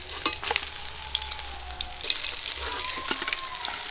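Pabda fish fry in hot oil, a steady close-up sizzle with crackling pops and occasional stirring scrapes, no talking.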